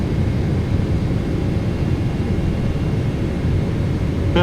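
Boeing 777-300ER landing in the PMDG flight simulator, a loud, constant rumble of engine and airflow noise throughout with no talk.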